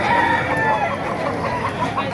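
Roosters at a chicken market in Bocaue, Bulacan, clucking and calling in a dense, loud crowd, with market hubbub and nearby voices mixed throughout.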